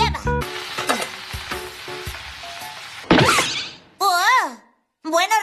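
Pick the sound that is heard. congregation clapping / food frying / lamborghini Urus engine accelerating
food frying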